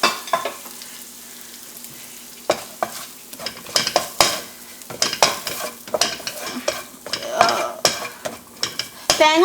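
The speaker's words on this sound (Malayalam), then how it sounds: "ജസ്റ്റ് ഒന്ന് സോട്ടേ ചെയ്ത് എടുത്താൽ മതി" Grated coconut and green chili sizzle in a pan for a Kerala-style thoran, with repeated loud scraping strokes of a spoon stirring in an irregular rhythm, close up and without speech.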